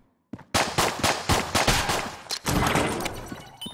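Rapid, loud automatic gunfire from AK ghost enemies in the video game Enter the Gungeon, a dense run of punchy shots with a few brief gaps, continuing for several seconds.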